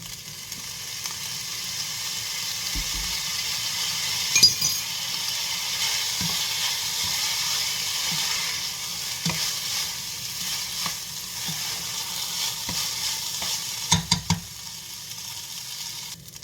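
Chinese fried rice with oyster sauce is stir-fried in a pan, giving a steady close sizzle with occasional scraping and clanking stirs of the utensil. No voices are heard.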